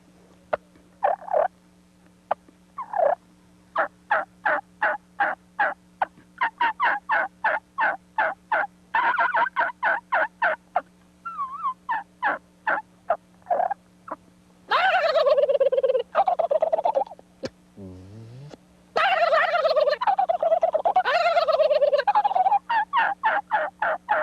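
A person imitates turkey gobbles with the natural voice, pitched like a young gobbler: rapid rhythmic clucking bursts building into louder warbling gobbles, close and alone over a faint steady hum.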